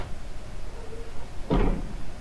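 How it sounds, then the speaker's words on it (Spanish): In the horror video game Slender Woods, a single heavy thud as someone forces or tackles a door, a loud, brief impact standing out over a dim, low ambient drone. "Se escucha como que si alguien está intentando forzar la entrada de una puerta, es como que alguien está tacleando la puerta."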